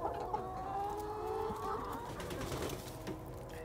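Chickens on a small farm cluck steadily from close by, several birds overlapping in a busy run of calls with no talk.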